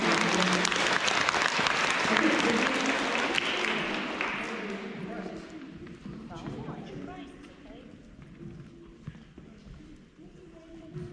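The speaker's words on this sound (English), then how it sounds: "everybody, one more round of applause" Applause for award winners at a K-2 school awards event, loud clapping that gradually thins and fades, giving way to scattered voices and room murmur.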